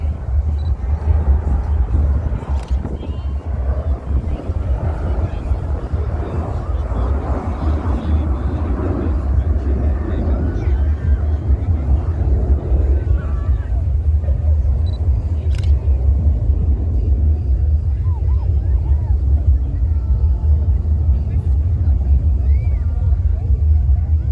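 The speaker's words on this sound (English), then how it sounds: "the aircraft starts to increase their speed back down to 200, 300, back to 400 miles per hour" Red Arrows display team jets at the Ayr Airshow, a steady broad roar of jet engines rumbling continuously throughout, distant and sustained with faint crowd or commentary murmur underneath.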